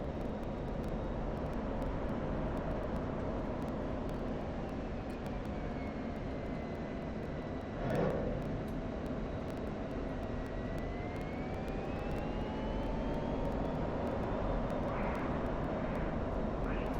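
Jet engine of an F-16C in flight in a combat flight simulation game, a steady loud roar throughout with faint shifting tonal whine and a brief swell around the middle.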